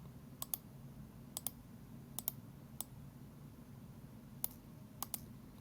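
Computer mouse buttons click in a quiet room, in about a dozen crisp, close taps, often in quick pairs, spread unevenly over a few seconds with no voices.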